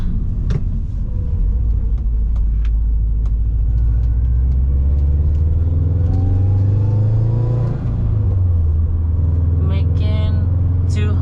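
A 2011 Subaru Impreza WRX hatchback with a 2.5 liter engine drives along, its loud steady rumble rising as it accelerates, then dropping after a gear change near the end, with faint background voices.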